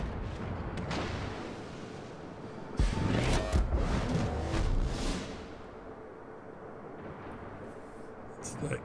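Rumbling booms and rattling gunfire from World of Warships as enemy shells and bombs strike a Tier-3 destroyer, a sustained heavy barrage in the middle, with someone talking throughout.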